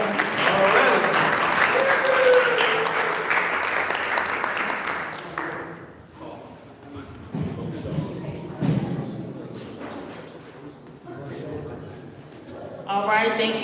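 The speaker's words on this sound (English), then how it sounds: "let's give Moran another round of applause for BEAM" An audience at a candidates' meeting claps loudly for about six seconds, then the applause fades into a speaker's voice, a few scattered claps and shuffling before a brief final burst of clapping.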